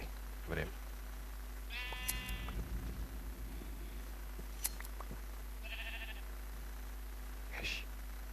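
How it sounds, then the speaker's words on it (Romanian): Minecraft sheep bleat in short, synthetic bursts, one with a quick stuttering quaver, scattered across a quiet background with a faint steady hum and occasional soft clicks, while a person speaks at times. "Multă oaie."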